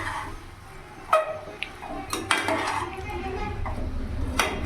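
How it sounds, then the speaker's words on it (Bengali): A spoon scrapes and clinks against a cooking pan as mushrooms are stirred together with spices, giving irregular metallic knocks and soft scraping at close range. "ভালো করে আমি মিশিয়ে নেব মশলার সাথে।"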